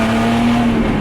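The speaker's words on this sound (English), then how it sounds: "Coming from 1000 horsepower GTR" A 1000-horsepower Nissan GT-R on an access road, a loud, steady engine roar with a sustained droning tone, close and overpowering, with no voices.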